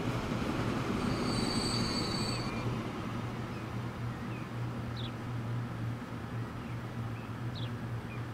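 Train in Transport Fever rolling along rails: a steady low rumble of wheels on track with faint metallic squeals and occasional clicks, continuous and moderately near, no talk.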